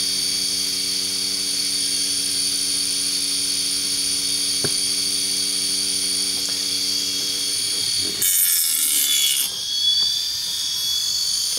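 A small brushless motor run by an A4941 driver spins up to a steady high-pitched whine of several thousand RPM with sharp harmonic tones, close and constant, then shifts abruptly near the end as the pitch changes.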